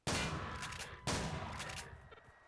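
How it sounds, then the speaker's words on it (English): A powerful shotgun from a Call of Duty weapon pack in Garry's Mod fires two loud, close blasts about a second apart, each followed by a short fading echo, with no talk. "This shotgun is pretty much self-explanatory. It's one of the more powerful ones, as you can see."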